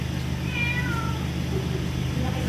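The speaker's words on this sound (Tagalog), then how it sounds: "Madami ng pusa dito." Cats meowing while waiting to be fed, with a couple of drawn-out meows near the start and a fainter one later over a steady low background hum.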